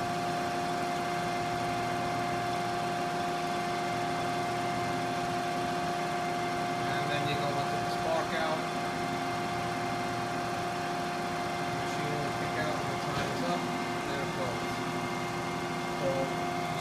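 Machine tool running under fine power feed, giving a steady, close mechanical hum with constant tonal whine and even vibration throughout, while someone talks over it.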